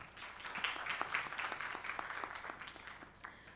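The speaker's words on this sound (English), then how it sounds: "Can we have applause for that?" Audience applause at a literature and art festival talk in Bhopal, a steady patter of many hands with a few sharper claps standing out, moderately distant and fairly soft throughout.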